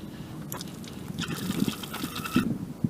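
Water trickling and splashing from an outdoor tap as a bottle is filled, with irregular gurgling bursts, fairly close and quiet, no talking.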